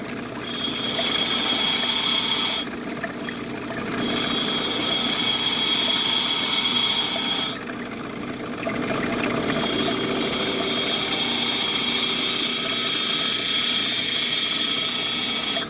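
A power tool grinds wonder stone up close, a steady high whine with a harsh gritty rasp, briefly easing off twice before carrying on loud and continuous with no talking.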